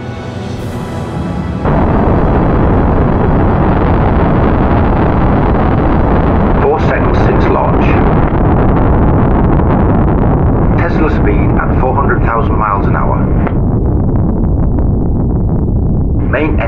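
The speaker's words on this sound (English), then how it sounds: "Clear for takeoff." Sci-fi spacecraft lifting off, a loud, continuous roaring rumble that builds after a brief opening and holds steady, with a voice speaking over it in places.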